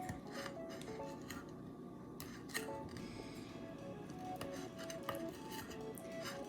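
A knife sawing into a cooked steak on a plate, with faint scraping and a few clinks of cutlery against the dish, quiet and close.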